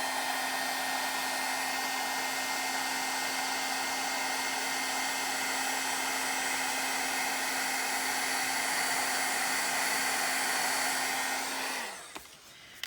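A heat gun melts embossing powder for heat embossing, blowing a loud, steady whirring hum for about twelve seconds before it switches off and winds down.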